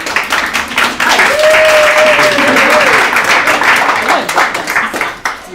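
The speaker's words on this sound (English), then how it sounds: "That deserves a clap." Wedding guests clapping during a ceremony, a loud, close round of hands with audible individual claps, overlapped by voices and a high cheer, thinning out toward the end.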